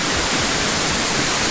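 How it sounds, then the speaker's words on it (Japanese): Steady broadband rush of a waterfall right in front of a cafe in Bali, a constant dense roar with no pauses and no voices. "目の前に滝がある"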